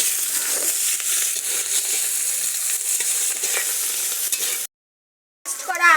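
Finely chopped onions with bay leaves, dried red chillies and whole garam masala sizzle in a hot pan for a chicken dish, a steady close crackle and hiss that cuts out briefly before resuming.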